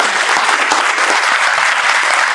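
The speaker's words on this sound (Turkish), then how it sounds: "Ben bu anlamda yürekten sizi hepinizi alkışlıyorum" Staff gathered for a Women's Day event applaud, with continuous loud, close clapping filling the short stretch.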